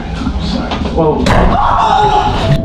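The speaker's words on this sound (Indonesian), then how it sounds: "pintu kamar tertutup kembali dengan keras" A bedroom door slams shut hard in a horror film, the sharp bang landing about a second in amid tense background sound, with voices heard throughout.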